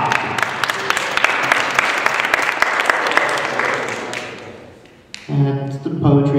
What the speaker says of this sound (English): Let's get another round of applause for Bob.